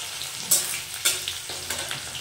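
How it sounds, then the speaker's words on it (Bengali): Chopped onion sizzling in a hot pan, a steady crackling fry with a few sharper stirring scrapes and pops, close and fairly quiet, with no talking. "পেঁয়াজটাকে আমি একটু লালচে করে ভেজে নেব।"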